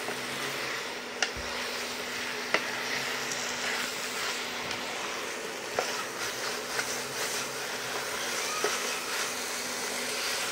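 Meat frying and being stirred in a pan during Bengali kosha cooking gives a steady, fairly quiet sizzling hiss, broken by occasional sharp clicks and taps of the spatula.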